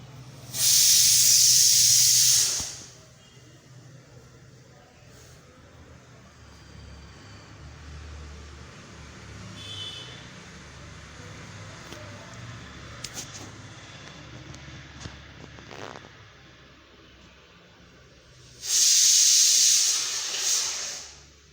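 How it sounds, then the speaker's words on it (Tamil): Cauliflower drops into hot oil with a loud, sustained sizzling hiss, then settles into a quieter, steady bubbling fry. A second strong hiss bursts in near the end. "எண்ணெய் நல்லா காஞ்சதுக்கப்புறமா காலிஃப்ளவர் வந்து சேர்த்துடலாம்"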